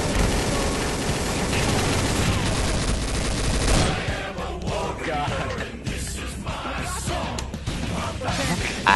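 Heavy automatic gunfire in Garry's Mod DarkRP, a loud dense burst of rapid shots that breaks off about halfway into scattered shots and yelling voices.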